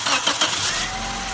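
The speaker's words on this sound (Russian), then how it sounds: "запуск двигателя" A 2006 Nissan Primera's 1.8-litre QG18DE engine cranks in a few quick bursts and catches, settling into a steady running hum, close and fairly loud with no voices.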